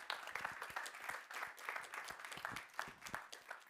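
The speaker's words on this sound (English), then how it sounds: "A big applause." Audience applause closing an interview session at the EIF 2022 conference, a steady patter of many hands at moderate loudness with rhythmic individual claps standing out, fairly close and without talk.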